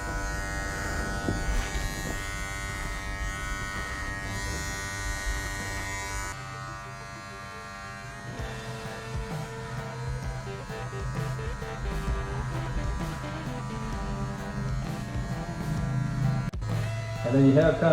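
Electric hair clippers cutting a high fade, a close continuous buzz that shifts in tone as the blade moves through hair, with someone talking over it.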